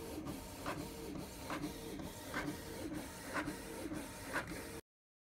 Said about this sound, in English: then the printer will get back to printing